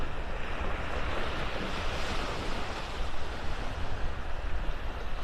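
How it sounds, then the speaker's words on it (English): Ocean surf rolling in on Vanderbilt Beach in North Naples, Florida, on a mild cloudy morning: a continuous loud wash of breaking waves mixed with wind buffeting the microphone, no voices. "my Christmas morning beach walk on Vanderbilt Beach up in North Naples"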